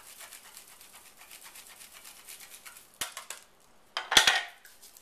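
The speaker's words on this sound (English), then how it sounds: "now I'm going to grate some fresh Parmesan cheese on it" Fresh Parmesan cheese grated onto spaghetti with tomato sauce: soft, faint scraping rasps at first, then a few sharper, louder scrapes and clinks of the grater near the end.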